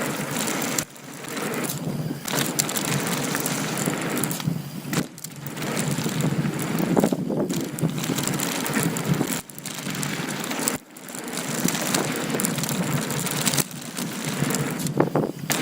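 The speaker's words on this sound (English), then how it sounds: "super windy today" Strong gusting wind buffets a rider on a ski slope at Snow Summit, a loud roaring rush that comes in surges and drops out briefly between gusts.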